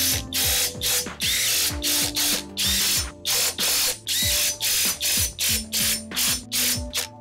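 Repeated short bursts of a Mollar CIW20500 20V 500 Nm cordless impact wrench tightening wheel bolts, about a dozen quick whirring, ratcheting pulses in a row with brief pauses between, close and loud.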